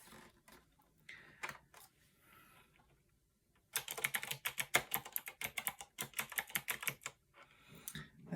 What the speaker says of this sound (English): That is the Apple keyboard.